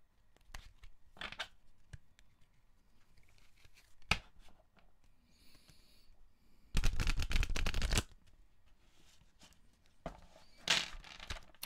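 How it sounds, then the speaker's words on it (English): Oracle cards are shuffled in several quick riffles with soft taps and slides between them, close by, one louder burst of rapid flapping in the middle. "One more shuffle."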